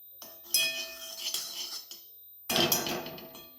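Ghee goes into a kadhai on a gas stove with a few sharp metallic clinks and clatters, two bright bursts a couple of seconds apart and lighter rattling between them, close and clear with no talking.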